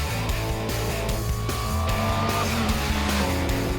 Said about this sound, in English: Strong acceleration with instant shifts from the sequential gearbox and, being a Mini, razor-sharp cornering with impressive grip